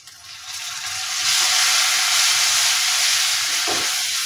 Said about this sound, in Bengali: এখানে আমি ধুয়ে রাখা চিংড়িগুলো দিয়ে দিচ্ছি।